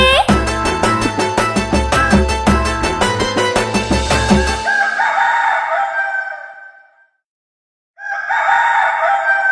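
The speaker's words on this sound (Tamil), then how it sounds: "கொக்கரக்கோ சேவலே, கொண்டையாட்டும் சேவலே" A rooster crows loudly twice after a stretch of rhythmic music from a Tamil children's song, with a short silent gap between the calls.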